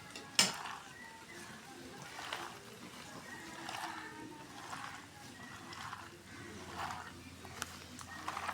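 Fish curry with ridge gourd being stirred and mixed in a pan, with soft scraping and clinks of a utensil recurring every second or so, a faint sizzle underneath and quiet background noise.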